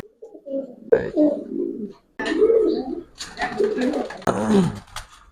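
Domestic pigeons kept for breeding, including high-flyer and racer birds, coo in a loft in repeated throaty bursts, close and clear, with a few brief pauses between calls.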